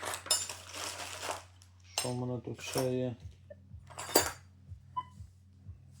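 Metal spoons clink and rattle together several times up close, while a person talks briefly over a steady low hum.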